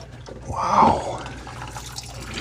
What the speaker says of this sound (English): Let's empty the dirty water tank.